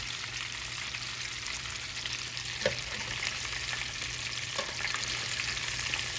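Coconut-battered shrimp deep-frying in hot oil, a steady dense hiss and crackle throughout with a couple of faint bubbling pops, close and continuous with no talking.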